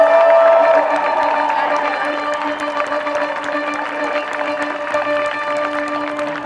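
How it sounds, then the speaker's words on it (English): Crowd applause and cheering for world record winner Agnes Tirop at a road race awards ceremony, a steady loud wash of clapping with voices mixed in, continuing evenly throughout. "Big round of applause, please,"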